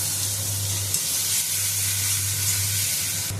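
Garlic and onion paste frying in hot oil with an onion tempering for a bitter gourd chorchori, a steady loud sizzle with faint stirring and a low hum beneath.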